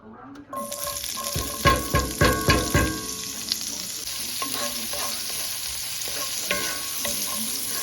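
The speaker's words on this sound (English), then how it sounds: "I always like fry the potatoes and onions in a little bit of bacon grease" Potatoes and onions frying in bacon grease, a loud steady sizzle with a run of rhythmic stirring scrapes early on, close and without talk.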